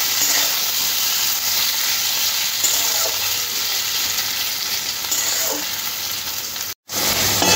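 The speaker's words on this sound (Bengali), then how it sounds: "এভাবে নাড়াচাড়া করে আরেকটু ভাজিয়ে দিতে হবে।" Half-boiled potatoes stir-fried in hot oil for a fish roe jhuro, a steady loud sizzle with occasional scraping stirs, briefly cut off near the end and then resuming.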